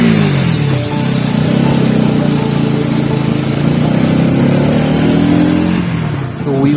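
A vehicle drives along a mountain road through Kedarnath Wildlife Sanctuary, its engine droning loud and close with rising and falling revs, wind and road noise steady throughout.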